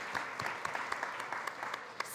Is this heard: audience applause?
yes